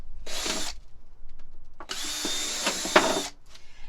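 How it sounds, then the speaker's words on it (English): A power drill bores holes into a plastic jug in two short buzzing bursts. The first lasts about half a second, and after a pause the second runs about a second and a half, close and clear with no talk. "get your drill, or if you don't have a drill, you can use scissors for this. You're going to be making holes in the jug."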